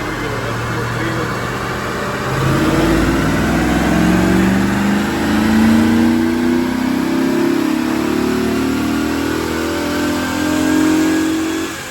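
A high-mileage C4 Corvette with an LT1 V8 revs on a dyno, a loud steady drone that climbs in pitch as the engine pulls through the run, with the car's sound filling the space alone.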